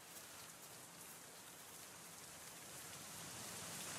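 Soft, steady rainfall in the medieval colony-building video game Going Medieval, a faint even patter that swells slightly toward the end, heard alone without speech.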